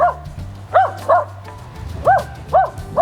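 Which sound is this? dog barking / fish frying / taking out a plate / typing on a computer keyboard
dog barking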